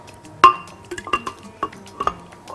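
Eggs dropped into a bowl for marble cake batter, with sharp taps and clinks of shell and utensils on the bowl, several irregular close knocks and soft wet plops in a quiet kitchen, no talking.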